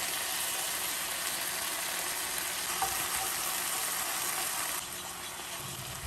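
Chives stir-frying in a pan with soy sauce for a Korean dish, giving a steady close-up sizzle and hiss that stays even, then drops slightly softer near the end, with no talking.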